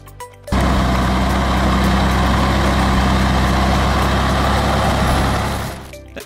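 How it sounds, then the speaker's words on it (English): Heavy logging truck loaded with timber grinding across a makeshift wooden bridge of stacked logs on rough terrain, its deep diesel engine droning loud and steady, rising in after a brief lull and fading slightly at the end. "With careful throttle control, the truck successfully crosses the bridge with its timber load"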